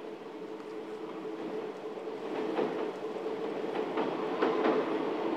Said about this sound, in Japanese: 新見から高橋川の支流西川に沿って進む特急やくも。